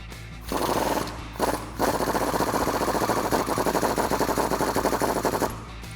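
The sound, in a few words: 18mm socket removing bottom control arm bolt on Jeep Wrangler TJ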